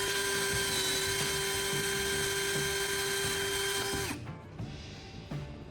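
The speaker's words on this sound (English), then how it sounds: "it will serve as a support when I drill a hole right in the center" A small drill whines at a high, steady pitch for about four seconds while boring a hole in a plastic bottle cap, then cuts out, leaving a few light clicks and handling noises.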